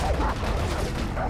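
Gunfire strikes the player in Far Cry 3: a dense, loud burst of rapid shots crackling continuously and close by for about a second.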